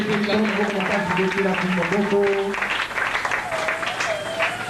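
A church congregation applauding and cheering, a continuous wash of clapping under loud voices calling out and singing, steady and close throughout.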